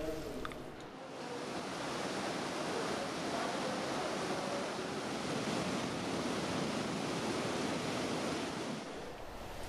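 Mountain waterfalls feeding an Alpine reservoir give a dense, constant roar of falling water that stays even throughout, with some wind buffeting the microphone.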